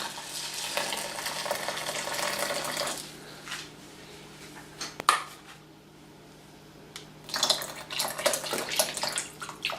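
Hot water pours into porridge with a rushing, splashing sound for a few seconds, then pauses, followed by another burst of pouring and bubbling liquid.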